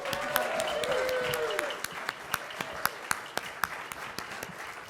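An audience at a panel discussion keeps applauding, a dense wash of clapping that thins into scattered individual claps, with a voice briefly heard early on.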